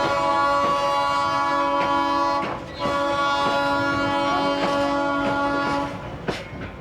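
A passenger train running through Peru on the way to Cuzco, with a steady close rumbling drone and a faint rhythmic clatter of the wagons. No one speaks over it.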